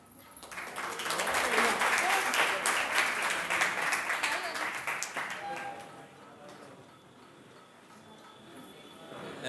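A live audience applauds warmly after a devotional recitation, a dense roar of many hands that swells, holds for several seconds and then gradually thins out.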